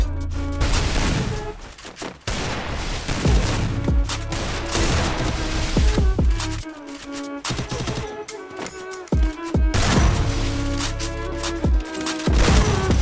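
Dense, loud video game gunfire fills the whole stretch, with rapid bursts and single shots in a nearly continuous fusillade while aiming for headshots, and booming impacts between volleys.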